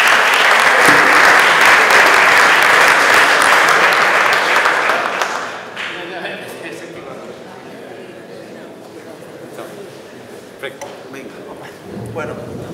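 An audience at a vending industry conference in Florence breaks into loud, dense applause for about five seconds, then it quickly thins to scattered claps and low murmuring.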